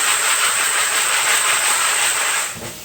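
A loud, steady rushing rattle comes from a Frankford Arsenal Platinum rotary tumbler drum being shaken with brass cases and steel pins inside, continuous and close before it drops off near the end.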